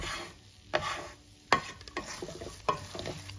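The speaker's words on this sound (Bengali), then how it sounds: "এইভাবে কন্টিনিউয়াসলি আমি এটাকে নাড়িয়ে যাব" Carrot halwa is stirred in a pan over a low flame, with a soft continuous sizzle broken by several sharp scraping knocks of the spoon against the pan.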